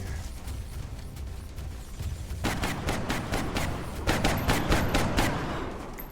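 Gunfire in the XCOM Enemy Within Long War mod: a dense volley of rapid shots over a continuous battle rumble, growing louder midway and continuing to the end, with no talk.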